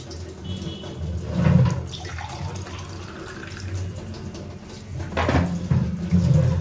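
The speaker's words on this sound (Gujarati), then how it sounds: "હવે ફરી આપણે 1 ગ્લાસ જેટલું છે પાણી એડ કરી દઈશું" About a glass of water pours and splashes into a container in two bursts, a running, gurgling flow that fades in between.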